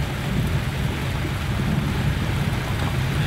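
Heavy rain pours down on a Costa Rican back road in the rainy season, a dense, steady hiss with a low rumble underneath, loud and continuous with no one talking.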